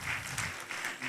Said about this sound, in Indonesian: Beri tepuk tangan untuk Pak Timur.